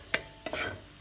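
A spoon scrapes and clacks against a hot pan as sambar spices and ingredients are roasted in the leftover heat after the flame is switched off, giving a few short, close scrapes with a light sizzle.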